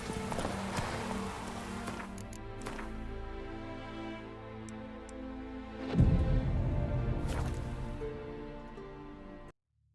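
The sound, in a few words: horse Roach galloping in the video game The Witcher 3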